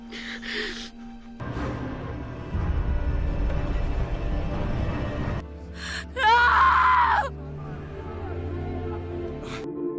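A woman screams hysterically in a dramatic night scene from the series The 100, a loud wailing cry rising in the middle of the passage among quieter moaning and tense background sound.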